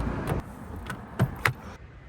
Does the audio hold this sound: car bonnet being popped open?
yes